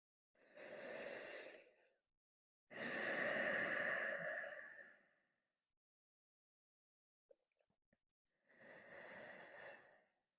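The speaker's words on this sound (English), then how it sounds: "And take 2 more breaths here." Slow, relaxed breaths during a yoga relaxation, three long soft exhales and inhales with a quiet gap between them, close and gentle against near silence.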